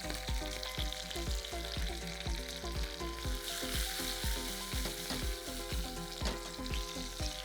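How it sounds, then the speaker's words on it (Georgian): A veal steak fries in browned butter in a pan, sizzling steadily and loudly up close with a quick crackling patter throughout, alone without talk. "2 წუთი ველოდებით, რომ გამუქდეს კარაქი და მერე ჩავაგდოთ სტეიკი ტაფოში."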